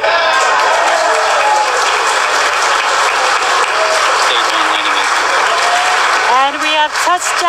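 Crowd cheers and applauds loudly and steadily as a SpaceX Falcon 9 first-stage booster touches down on a drone ship during a Starlink launch, with voices shouting near the end.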